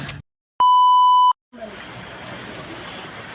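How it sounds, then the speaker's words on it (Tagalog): Heavy rain pours down on a boat as a steady, even hiss. A clean electronic beep sounds briefly before the rain comes in. "Lumalakas na yung ulan guys, kaya di tayo makalabas."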